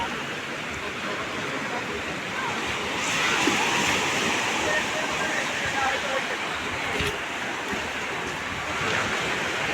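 Sea waves breaking on Mandarmani beach, a steady broadband wash of surf with wind across the microphone, continuous and fairly loud, with faint voices in the background.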